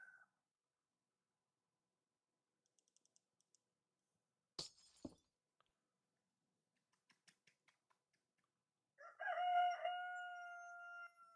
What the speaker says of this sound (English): Another stream chicken.